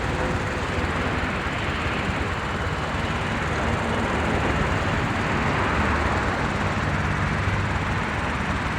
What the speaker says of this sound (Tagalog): Yun, aeroplano.